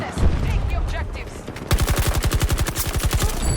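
Rapid automatic gunfire from Battlefield 2042 breaks out after a short lull of game noise, firing as a loud, fast, steady burst of shots close to the listener.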